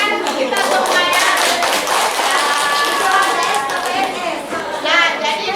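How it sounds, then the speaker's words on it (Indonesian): A group of people claps hands together in a dense, lively burst of applause that holds steady for several seconds, close and loud, with a few faint voices mixed in. "Tepuk tangan untuk kita semua ya."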